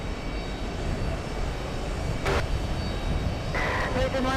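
Steady roar of an Airbus A330 airliner at JFK airport, continuous and fairly loud, with a brief bright noise burst partway through and a few tonal chirps near the end.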